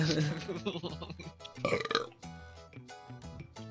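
A voiced burp rises out of cheerful background music during a Minecraft gaming session, a single drawn-out belch lasting about half a second amid the musical tones.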